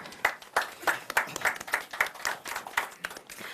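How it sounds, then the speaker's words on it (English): An audience claps at a panel on sustainable development capital markets in Africa, a fairly quiet, even patter of a dozen or so distinct claps that slows and thins out over a few seconds. "Round of applause, please."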